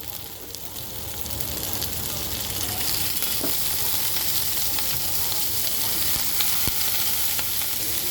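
Cut potatoes fry in hot oil for a tengra fish curry, with a loud, steady sizzle that swells slightly and keeps going, with occasional faint clicks of stirring.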